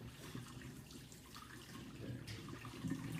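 Liquid is poured slowly out of a 6.5-gallon glass carboy used as a homebrew fermenter, making a soft, continuous trickle and gurgle that stays faint and steady throughout with no talk.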